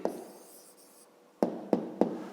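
Pen writing an answer by hand on paper during a maths exercise, a soft scratching stroke followed by three sharp taps of the pen.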